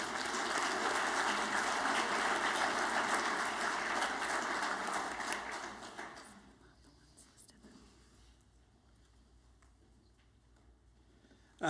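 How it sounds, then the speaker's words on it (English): An audience claps at a family medicine commencement ceremony, with dense, loud applause for about six seconds that then dies away to quiet room noise. "if we give them a round of applause."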